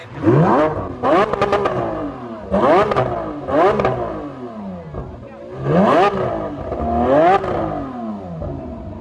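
A Lamborghini Huracan at an exotic car meet in Charlotte, NC, lets out about five loud, close revs, each climbing sharply and dropping back, with short pauses between bursts.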